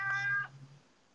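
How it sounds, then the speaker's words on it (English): A single loud cat meow, tonal and drawn out for under half a second, then fading into quiet room noise. "man, someone's got a loud cat."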